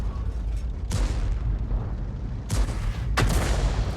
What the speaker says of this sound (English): And now he's firing into the mass of the enemy tanks.